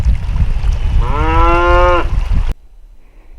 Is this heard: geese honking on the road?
no